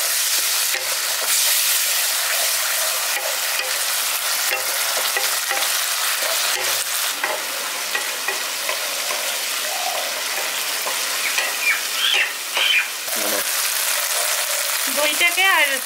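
Brinjal with poppy seed paste, curd and slit green chilies being stirred in a frying pan, a continuous close sizzle with scraping spoon strokes throughout and a few louder clatters near the end.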